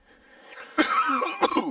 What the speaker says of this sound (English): Getting over a bit of a cough here.